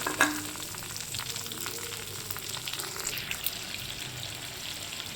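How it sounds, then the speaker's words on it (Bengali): Steady, close sizzling and bubbling of potatoes frying in a pan of hot oil, left over from frying prawns, with a short clatter at the start and no talking. "এবার আমি এই তেলের মধ্যে আলুগুলোকে দিয়ে ভেজে নেব।"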